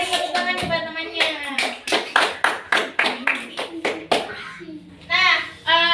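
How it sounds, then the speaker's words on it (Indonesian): Schoolchildren in a classroom clap for their classmates, a quick run of crisp, rhythmic claps close by, with children's voices mixed in. "beri tepuk tangan kepada temannya"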